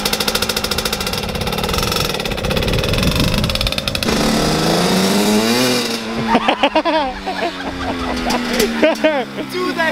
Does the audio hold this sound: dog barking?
no